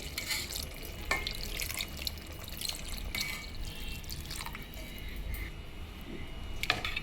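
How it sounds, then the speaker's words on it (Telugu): Water from a glass poured into a brinjal (eggplant) curry cooking with castor bean paste in a traditional Andhra kitchen; a steady splashing, trickling pour runs close by for several seconds with a few sharper drips and clinks. "ఒక గ్లాస్ వాటర్ పోస్తున్నానండి"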